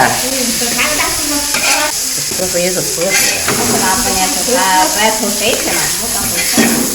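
Bitter melon stir-fries in a wok, a loud, constant sizzle and scraping, with voices chatting over it throughout.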